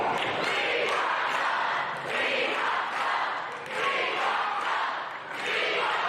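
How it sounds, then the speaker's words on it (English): A young crowd at a professional wrestling show cheers and yells excitedly, a dense roar of many voices rising and falling in waves throughout. "The youngsters in the crowd getting very excited right now"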